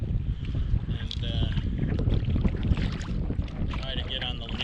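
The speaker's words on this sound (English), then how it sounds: "Yeah, wind is crazy." Strong wind buffets the microphone on a marsh while fishing from a boat, a steady roaring gust with water lapping, and a person speaks over it.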